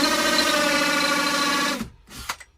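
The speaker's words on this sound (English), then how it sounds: "we're drilling a hole in our ceiling" A power drill whines loudly and steadily while boring a hole into a ceiling, then stops abruptly, followed by a couple of faint knocks and rustles.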